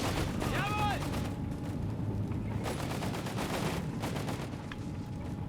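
Grenades and gunfire burst repeatedly across a Company of Heroes 3 battle between Wehrmacht and US forces, sharp broadband blasts stacking over a dense continuous din, with a commentator talking throughout.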